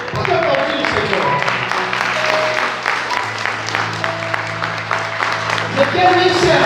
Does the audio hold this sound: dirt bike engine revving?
no